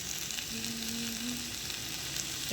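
Spice paste sizzles steadily as it fries in a pan, a continuous close hiss with faint stirring, no voices.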